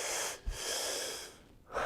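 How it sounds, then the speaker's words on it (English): A deep belly breath demonstrated close up: a sharp audible inhale, a sustained airy draw, a pause, then another quick intake of breath, quiet and isolated. "So a normal big breath would look like this."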